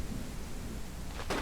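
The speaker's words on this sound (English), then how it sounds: "so we're in the middle of a storm" A thunderstorm rolls through the space game SpaceBourne 2, with a steady wash of rain-like hiss and low rumble and a brighter crackling burst swelling near the end.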